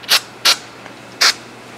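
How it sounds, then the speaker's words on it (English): Brake parts cleaner sprayed from an aerosol can into a threaded hole in an engine block during a Time-Sert thread repair: three short, sharp hissing bursts, close and loud, with quiet gaps between them. "Going to spray a little bit of brake parts cleaner down in there."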